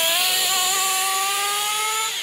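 A stock Kyosho Inferno ST nitro RC car engine with its stock pipe screams at a high, steady pitch, close and loud, with a thin whine that wavers slightly as the revs shift.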